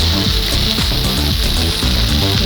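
Vegetables and rice are stirred and fried in a pan for veg pulao, giving a loud, steady sizzle broken by repeated scraping strokes of a spatula across the pan bottom.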